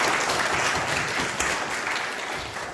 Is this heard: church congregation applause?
yes